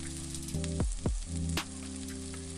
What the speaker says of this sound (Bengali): এবার এই আলু আর গাজরটা হালকা ব্রাউন কালার আসা পর্যন্ত আমি ভেজে নেব।